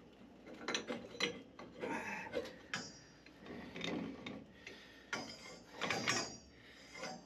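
A threaded water pipe fitting on boiler pipework is turned tight by hand with a wrench, giving a run of quiet ratcheting, scraping clicks in bursts with short pauses between them and no talking.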